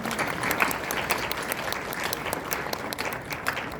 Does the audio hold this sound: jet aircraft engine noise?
no